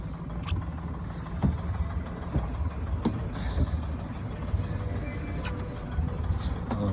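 A boat's engine runs steadily at idle, a low continuous drone with faint intermittent knocks and clicks from work nearby.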